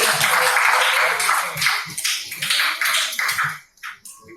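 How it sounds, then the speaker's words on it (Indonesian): Students in a classroom clap their hands in a brisk, fairly close burst of sharp taps that thins out into a few scattered claps at the end. "Hei, tepuk tangan."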